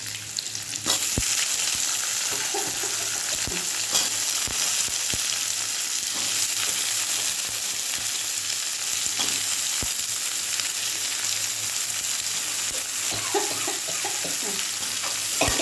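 Potatoes frying and being stirred in a pan together with prawns and tomato, a steady close sizzle filling the whole stretch with occasional scraping stirs and no talk.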